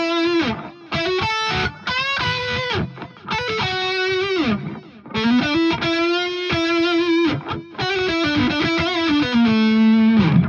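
Heavily distorted electric lead guitar through the Fat Blob amp simulator plays sustained notes and bends in phrases with short gaps, loud and upfront, with no voices.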